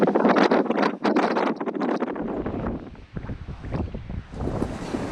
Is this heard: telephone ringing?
no